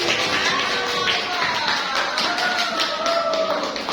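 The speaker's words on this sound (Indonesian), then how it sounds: "Tepuk tangan untuk kelompok ini." Students in a classroom clap for the best-presenting group, a dense patter of hands lasting throughout with a few voices and whoops rising over it.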